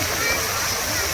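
A water fountain at Goda Park in Nashik gushing and splashing in a continuous broad rush, close and fairly loud.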